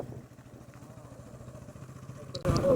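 A motorcycle rides along a road with a steady, low engine drone. A sudden burst of wind buffeting or rumble comes near the end.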